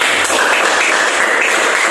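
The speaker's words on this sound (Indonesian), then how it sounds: "100 untuk Grace, silakan tepuk tangan." A classroom of students breaks into applause, a loud, dense burst of clapping that stays steady for about two seconds without talking.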